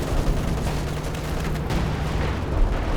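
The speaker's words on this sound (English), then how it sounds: "this is sector artillery" Sector artillery barrage in Company of Heroes 2, a dense, continuous roll of overlapping booms and rumbling blasts covering a wide area, steady and fairly loud with no pauses.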